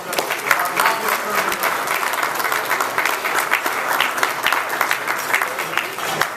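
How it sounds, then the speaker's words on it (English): A Rotary club audience gives a sustained round of applause, dense, loud and close, with scattered sharper claps and faint voices mixed in, holding steady throughout. "Let's have a final round of applause."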